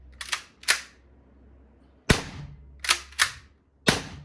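Rubber ball guns fire at a metal sheet, producing about seven sharp, loud cracking shots in irregular bursts, some paired in quick succession, with a quiet gap in the middle and no talking.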